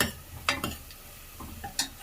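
Rice with rock salt, masala and coriander powder is stir-fried in a pan, a faint sizzle under a few soft scrapes and knocks of a spoon against the pan, close and quiet, with no voices.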